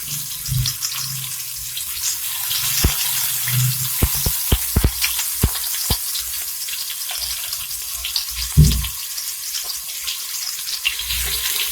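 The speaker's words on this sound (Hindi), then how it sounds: "दो से 3 मिनट प्याज को फ्राई करना।" Sliced onions fry in a pan for okra bhaji, giving a steady close hiss with scattered clicks and a few utensil knocks.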